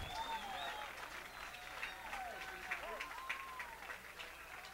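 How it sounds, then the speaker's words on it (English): Baseball crowd at Lowell Park cheering a leaping catch on the right side, a steady roar of cheers and scattered whistles filling the ballpark under an announcer's voice. "Accept the cheers, Austin."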